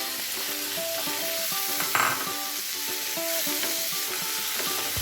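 Onions and tomatoes sizzle and fry in coconut oil in a pan, a continuous crackling hiss with small stirring clatters throughout, close and moderately loud with no talking.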